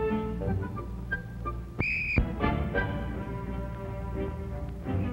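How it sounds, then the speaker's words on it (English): A police officer gives one short, sharp whistle blast, lasting under half a second, over a busy low background rumble. "When he hears Officer Harrison blow his whistle, he should stop as quickly as he can."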